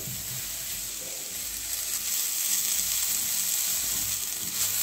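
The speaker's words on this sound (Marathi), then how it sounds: "आणि छान असं परतवून घेऊ।" Ambadi flowers sautéing in oil make a steady, close, hissing sizzle that grows slightly louder partway through, with no voices.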